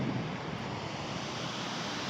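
Wind gusting steadily across an open hilltop viewpoint with hills behind, a broad continuous roar buffeting the microphone with no pauses and no talk.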